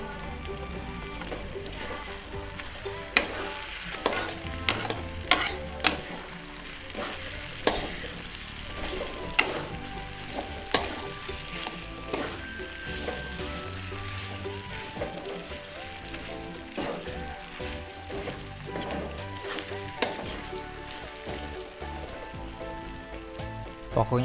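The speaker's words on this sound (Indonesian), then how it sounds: "Pokoknya diaduk terus sampai tercampur rata, sampai baunya tercium banget." Rendang spices with kaffir lime leaves being stirred in a frying pan for beef rendang, a steady sizzle under repeated scraping and clinking strokes of a spoon against the pan, close and continuous with no talking.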